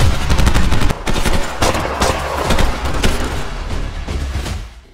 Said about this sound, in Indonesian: Untungnya Aguni yang tetap siaga berhasil menembak Raja Sekop itu